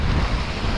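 Waves surging against the side of a rock at a rocky shoreline fishing spot, a steady broad wash of surf with some wind buffeting, close and continuous.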